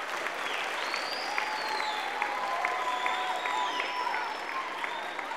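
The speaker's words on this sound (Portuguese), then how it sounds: "vamos dar uma salva de palmas com vontade para os meninos do segundo ano" Parents and pupils at a school reading-project opening clap for second-grade children after their performance, a steady crowd applause with a few high shouts and whistles over it.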